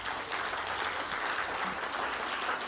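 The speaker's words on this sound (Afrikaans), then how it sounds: "Ek dink julle kan hulle aan 'n klap gee." Church congregation applauding together, a steady even clatter of clapping hands that fills the whole moment without pause.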